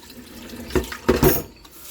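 Tap water runs into a sink as rice is washed for Jamaican rice and peas, with short splashing gushes and swishes rising and falling close by and no talking.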